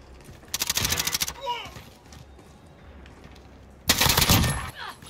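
AK-47 gunfire in a first-person shooter video game, two loud bursts of rapid automatic fire, the first short and the second at the end, with quieter game ambience between.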